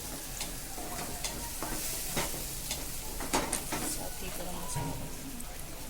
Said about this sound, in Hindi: अब इसमें हम अदरक लहसुन का पेस्ट डालेंगे, और इसको अच्छे से चलाएंगे